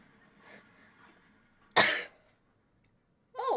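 A single sharp cough, half-sneeze in feel, bursts out loudly and briefly near the mic after faint background murmur, followed by a short vocal sound.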